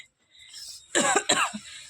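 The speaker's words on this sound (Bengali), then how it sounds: "মাছের ঝোলের ঝাঁজে কাশি উঠছে" Two sharp, close coughs in quick succession, followed by a softer short cough, in an otherwise quiet room.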